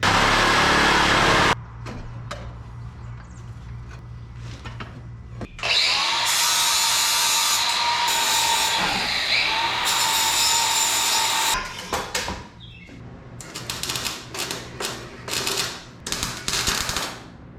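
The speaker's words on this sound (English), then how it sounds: "I've got enough welds on there to kind of keep it tacked in place" Tack welding on an exhaust muffler for an E36 BMW 318ti with an M52 engine: loud crackling, buzzing weld bursts of several seconds each, broken by short pauses and scattered clicks and shop clatter, with no talking.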